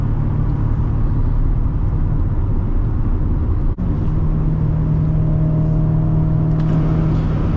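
A 2016 Chevrolet Corvette Stingray with a seven-speed manual gearbox drives through a tunnel: a loud, steady, low engine drone fills the whole stretch with a deep, continuous rumble, and no voices are heard.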